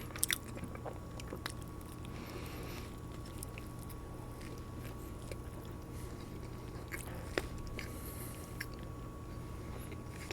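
Someone chews a bite of a Burger King Star Wars Whopper-style burger with barbecue sauce: soft, wet, close mastication with occasional crunches over a steady room hum, no talk.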